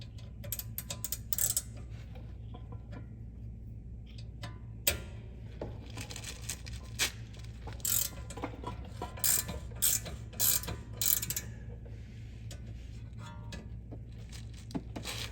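A long reach ratcheting wrench clicks in quick bursts while working on the rear brake of a 2018-2023 Hyundai Kona, rapid close ratchet ticks interspersed with metallic clinks over a low background hum.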